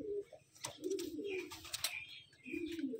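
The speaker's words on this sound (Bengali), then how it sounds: "এই হচ্ছে পায়রা, দেখুন কেমন লাগছে।" Pigeons cooing close by in a series of low, throaty rolling calls, with brief higher chirps and rustling between them and no speech.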